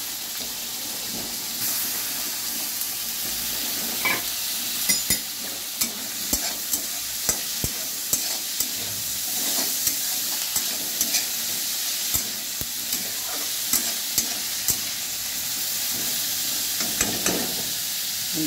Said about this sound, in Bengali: দিয়ে ভাজবো, হাই ফ্লেমে ভাজবো